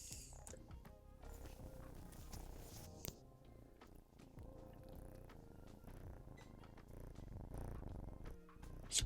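A cat purrs in a steady, low, continuous rumble close to the microphone, fairly quiet, with a few faint knocks and a voice briefly in the background.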